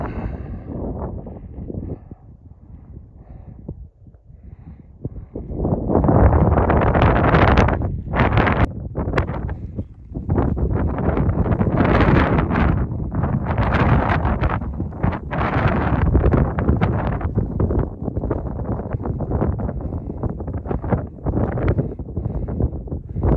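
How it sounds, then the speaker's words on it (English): Wind gusts across an exposed stretch of the Appalachian Trail, buffeting the microphone in loud, roaring surges after a quieter start, with brief dips between blasts. "the wind's already starting to kick up"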